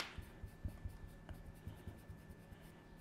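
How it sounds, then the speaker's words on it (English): Quiet, close rubbing of an eraser on paper removing pencil arcs, a series of short soft scrubbing strokes in an irregular rhythm. "it's a good idea to erase the arcs"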